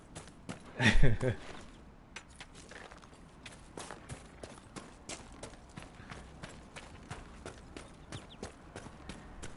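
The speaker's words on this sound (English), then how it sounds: "Yeah, I should probably go get the horse." Horse hooves clip-clop at a steady, even pace in the Dragon Age Inquisition video game, with a louder burst of sound near the start and then rhythmic footfalls continuing to the end. Someone talks in the clip.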